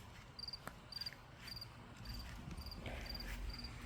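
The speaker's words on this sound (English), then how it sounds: "There's a lot more crickets this year because I let the grass grow." Crickets chirp in a field of uncut, overgrown grass, short high trills repeating in regular bursts over a faint outdoor hush, fairly distant and steady.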